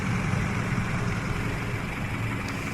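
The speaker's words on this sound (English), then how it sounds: "This is pretty loud, all those trucks showing up here." Airport service trucks idle near a parked airliner in the Prepar3D v5 flight simulator, a steady, dense low engine rumble that holds at an even level throughout with no talk.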